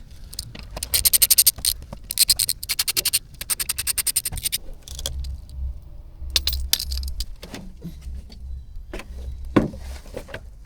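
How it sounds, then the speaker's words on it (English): A Torx T-30 bit works on the underbody guard of a 2020 Volvo XC60, giving bursts of rapid ratcheting clicks followed by scraping, clunks and loose metal rattles as the panel fasteners come free. "we have to remove this guard, and it's a T-30 Torx bit"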